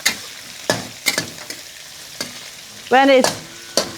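Shrimp stir-frying in a hot wok for a basil and egg dish, sharp repeated clanks and scrapes of the spatula over a low sizzle, with a brief voice heard between strokes.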